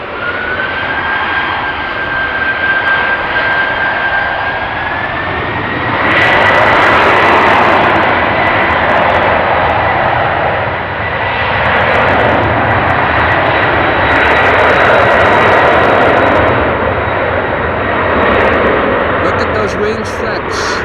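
A jet airliner climbs away in gusty wind at Amsterdam Schiphol, its engines a loud, steady roar with a rising whine, the noise swelling as it passes close by. A voice talks over it in places.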